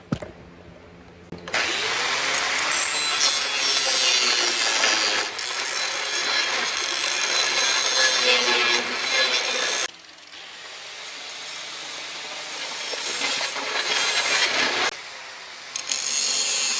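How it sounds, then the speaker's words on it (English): Angle grinder grinding down a jagged metal cut, loud and close, in two long continuous passes of harsh abrasive whine with a brief break between them. "Now I'm just gonna take my grinder, clean that up."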